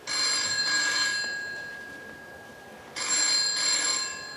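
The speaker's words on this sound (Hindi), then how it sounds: "इतनी रात को किसका फोन?" A telephone rings in two bursts of bright, trilling bells separated by a brief pause, fairly close and loud, with no voices.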